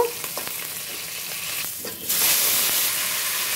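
Fish, potato and cauliflower frying in hot oil, a loud continuous sizzle that swells sharply partway through as more pieces hit the pan, with occasional stirring scrapes.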